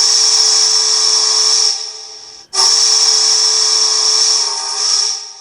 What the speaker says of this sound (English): there's our whistle.